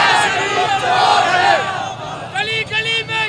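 Political rally workers in Lahore chant slogans in unison, a loud, rough mass of voices near the mic, followed by shorter rhythmic shouted bursts from the crowd.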